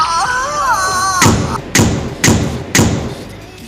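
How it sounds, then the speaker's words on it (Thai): Four heavy booming blasts in quick succession, each with a short rumbling tail, following a warbling electronic tone. "นี่มันระเบิด"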